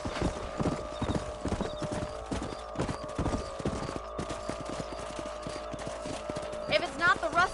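Horse hooves clip-clop steadily in the Red Dead Redemption video game, a brisk, close trotting rhythm. People talk over it, with a brief whinny-like sound near the end.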